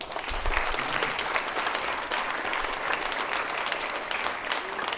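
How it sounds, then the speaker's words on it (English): A conference audience applauds the closing keynote speaker Terry at a Wikipedia engineering talk, dense, even clapping from many hands filling the room, continuing steadily with no talk over it. "So how about a round of applause for Terry?"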